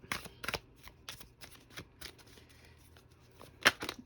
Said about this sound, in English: feel free to skip forward if it takes a little while for a card to flip